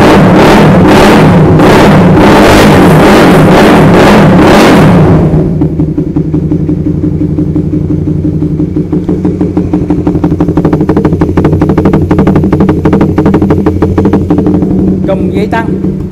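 A Honda CB150R 2021 ABS motorcycle revs in several sharp, loud, evenly spaced bursts close by, then settles into a steady idle while someone talks over it.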